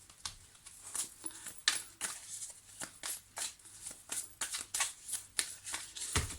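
Tarot cards being shuffled and cut by hand, a steady run of crisp riffling flicks and soft slaps close up, ending in one sharper thump, with no talking.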